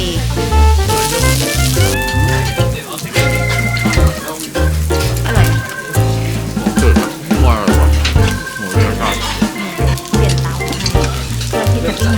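Food frying in oil on a two-layer grill pan at a Korean restaurant in Seoul, a loud dense crackle and sizzle filling the scene, with clinks and background voices of diners.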